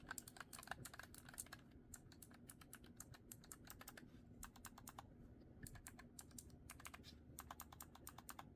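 Rapid clicking of Epomaker mechanical keyboard keys in bursts with short pauses, close and fairly quiet, no voices.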